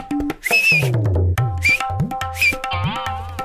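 Whistle blasts in a Motu Patlu cartoon episode: several short, shrill, high whistle toots come in bursts between animated cartoon sounds and music-like tones.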